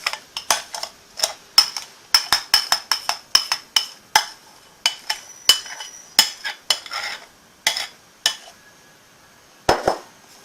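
Cake batter with egg being folded in a bowl, a string of sharp spoon-against-bowl clinks and taps in an irregular rhythm, close and fairly clear with no talking.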